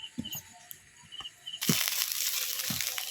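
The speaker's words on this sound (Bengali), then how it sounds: "আর আজ সিলে বাটার মানে সময় নেই, তাই জন্য মিক্সচারে দিলাম, দিয়ে খুব সুন্দর করে মিক্সচার করে নেব।" A kitchen mixer grinder is switched on to blend soaked lentils for winter pitha. A few light taps come first, then the motor starts with a loud, harsh whirring roar that continues steadily to the end.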